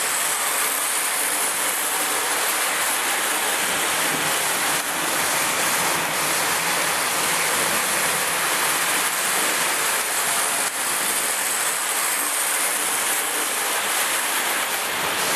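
A small 1947 Lionel model steam train rattles continuously along its track, a steady mechanical clatter with faint ticking, close by and without pauses.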